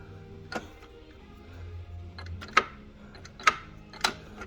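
Sharp mechanical clicks from a gear shifter mechanism in a car with a turbo VR6 engine, three or four spaced irregularly over a few seconds, with faint rattling between them, close up and without speech.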